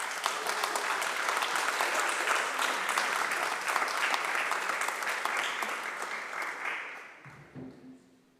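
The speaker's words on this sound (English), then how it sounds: "Let's give some applause to ourselves and our friends on the stream." Audience applause at an Ethical Culture 150th anniversary celebration, lively clapping with a few whoops that builds, then fades out over the final two seconds.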